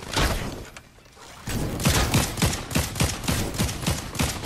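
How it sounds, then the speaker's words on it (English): Fire bow shots in the video game Fortnite: a dense, loud run of punchy thumps and cracks in a rapid, fairly steady rhythm, with a brief dip in activity near the start before the barrage resumes. "I have a bow that lights fire to everything,"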